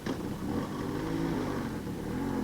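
A Bajaj Chetak 2-stroke scooter engine runs at a steady idle after starting, a continuous buzzing drone heard near and alone.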